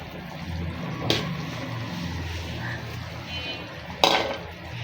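Magur catfish and fish roe fry in a pan with a steady, low sizzling hiss and soft bubbling, broken by two sharp utensil clinks against the cookware.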